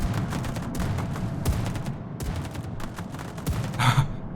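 Anti-aircraft gunfire from the World of Warships game, on the Lushun destroyer, a dense rapid rattle of repeated shots and distant flak bursts running continuously at moderate loudness.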